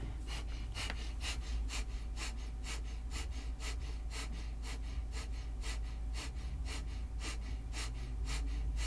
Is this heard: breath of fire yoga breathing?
yes